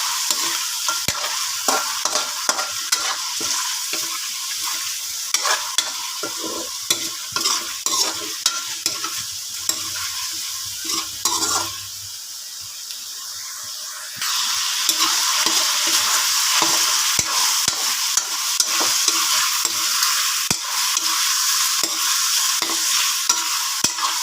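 Chicken seasoned with fish sauce being stirred and fried for a sautéed chicken and cauliflower dinner: a constant loud sizzle broken by rapid scraping and clattering stirring strokes, a brief lull midway, then the sizzle returns stronger, no speech.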